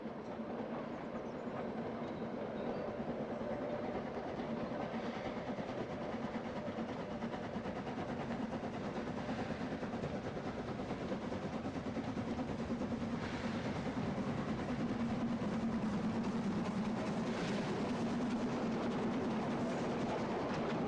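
Double-headed narrow gauge 99-class steam locomotives climb toward the Brocken, their steady, loud, continuous rumble and chuffing rolling on for the whole stretch with no voices.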